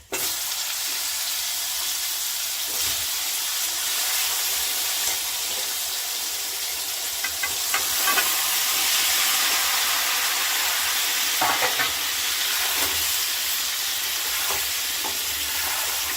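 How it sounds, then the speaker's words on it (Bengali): Spices are stirred and fried in a pan for a tangy-spicy mango pickle, producing a bright continuous sizzle with occasional scraping stirs; it is fairly loud and close, with no voices. "মশলাটা দিয়ে নাড়াচাড়া করব।"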